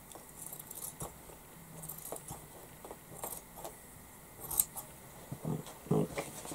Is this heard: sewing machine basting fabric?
no